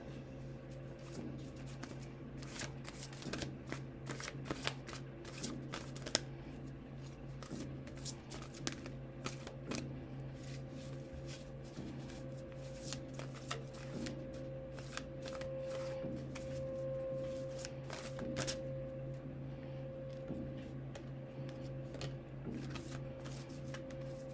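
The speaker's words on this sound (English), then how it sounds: "So let's go pull on more cards." Oracle cards are shuffled by hand for a long stretch, a soft continuous riffle and patter of card edges with small taps, close but quiet over a low steady background hum, with no talking.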